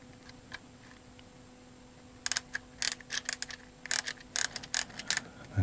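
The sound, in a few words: winding the wheel of a G&G GR16 hi-cap airsoft magazine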